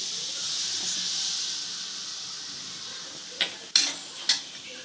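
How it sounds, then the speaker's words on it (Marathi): Red chili oil mixture for masala khari being stirred in a pan: a steady soft hiss, then three sharp, close scraping clinks of a spoon against the pan near the end. "असं सगळं हलवून घ्यायचं."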